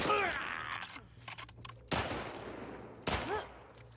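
Gunfire from The Last of Us Part II: a cluster of sharp shots at the start, then two loud, isolated gunshots about a second apart, each trailing off in echoing reverb.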